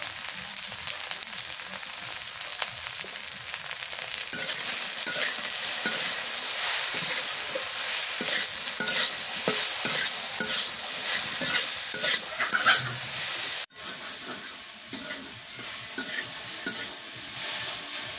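Okra frying in a pan with turmeric and salt, a loud continuous sizzle with frequent spatula scrapes and stirs, one brief dropout partway through, and no voices.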